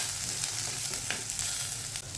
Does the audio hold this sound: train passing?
no